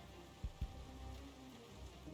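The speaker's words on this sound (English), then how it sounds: "just my luck, it started to rain" Rain falling in the Project Zomboid survival game, a soft steady patter under a low ambient hum, with two brief dull thumps near the start and no voices.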